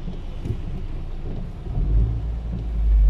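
Rain shower falling at night in Jeddah on New Year's Eve, a steady low rumbling wash with wind buffeting the microphone, growing heavier toward the end, with no talk.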